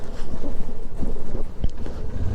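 Cold wind gusting across a high mountain pass, a loud rough buffeting roar that batters the microphone in uneven bursts.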